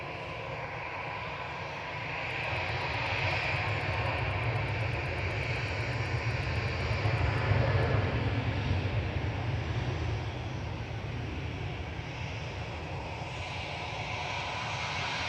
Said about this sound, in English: Flight 44, about to touch down, another A330-300.